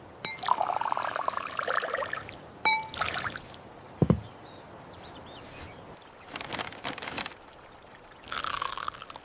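Juice poured into a glass at a family lunch outdoors, several short bursts of splashing and trickling separated by quiet pauses, with small clinks in between.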